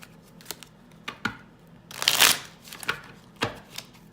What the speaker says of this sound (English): while I am shuffling your cards